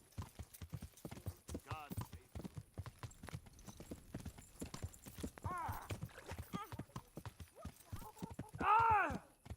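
Horse hooves clip-clop in a steady walking rhythm in the medieval video game Kingdom Come: Deliverance, close and clear, with a couple of neighs and whinnies, the last one loud near the end, and someone speaking over it at times.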